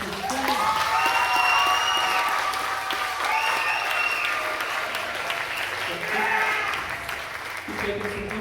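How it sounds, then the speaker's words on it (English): A high school audience at a stage hypnosis show gives a loud, sustained round of applause, with cheering and whoops swelling and easing across the whole stretch; vocal shouts ride over the clapping. "if you can give them as loud of a round of applause as you can"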